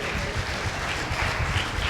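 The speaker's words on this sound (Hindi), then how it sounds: "ताली बजाइए।" A church congregation at a worship service claps together in a dense, steady burst of applause. It sounds close and fairly loud and keeps going for about two seconds.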